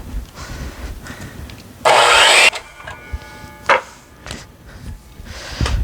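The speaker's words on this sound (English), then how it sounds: "All right, time to make some cuts. Got my skill saw." A skill saw rips through a wooden board in one short, loud buzzing cut, surrounded by quieter shuffling and handling sounds in a workshop setting.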